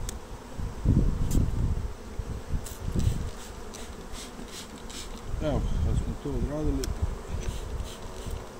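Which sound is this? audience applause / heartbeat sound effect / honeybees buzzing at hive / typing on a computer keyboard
honeybees buzzing at hive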